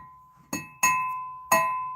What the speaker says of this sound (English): We've got beautiful blue glass dishes.